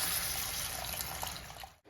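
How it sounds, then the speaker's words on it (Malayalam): Steady close splashing and trickling of strained tamarind water pouring into a pan, continuous for about two seconds before stopping abruptly. "വെള്ളത്തിൽ കുതിർത്ത പുളിയില്ലേ അത് പിരി പിഴിഞ്ഞ് അരിച്ചെടുത്ത വെള്ളം ചേർത്ത് കൊടുക്കാം"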